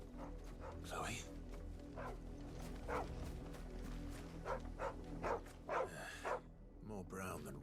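Torgal, a dog in Final Fantasy XVI, gives a series of short barks and yips scattered across the scene at moderate distance, mixed with talk and background sounds.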